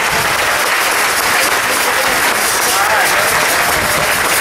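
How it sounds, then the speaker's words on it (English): An audience at a worship gathering at the Flora-Bama bursts into loud, dense, sustained applause, close and continuous, with voices mixed into the roar. "Give them a round of applause."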